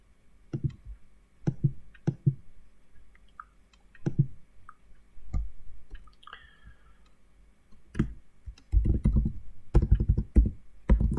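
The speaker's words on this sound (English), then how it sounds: "So I will just start typing." Scattered keyboard key presses click in short bursts, then a faster run of typing toward the end, close and fairly quiet, while typing into a Jupyter notebook.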